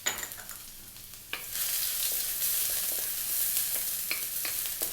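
Garlic and ginger fry in hot oil in a wok, a bright continuous sizzle that swells after an early clatter, with intermittent stirring scrapes and taps, close up and without speech.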